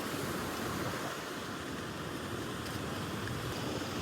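Ocean waves wash onto a beach in a steady, broad rush of surf mixed with wind noise, continuous and moderately loud with no clear breaks and no voices.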